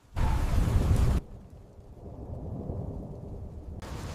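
A heavy rumble of thunder rolls in loud for about a second, then fades to a low, steady storm ambience with steady rain.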